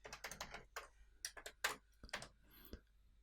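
Quick, faint keystrokes on a computer keyboard come in a short irregular burst of close clicks, with no talking.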